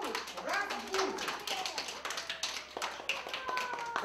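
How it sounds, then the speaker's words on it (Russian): Children clapping their hands to wake the Christmas tree at a New Year's party in Lobnya, a busy stream of scattered claps and taps under chatter, children's voices and music. "Мы в ладоши хлопать будем, нашу елочку разбудим."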